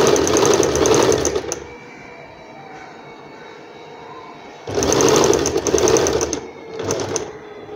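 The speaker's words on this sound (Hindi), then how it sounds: "ये देखो अभी ये सिलाई लगा रहे हैं इस तरह से।" A sewing machine stitches a canvas neck strip onto an umbrella frock, running in a long whirring burst, pausing, then buzzing again in two shorter close runs.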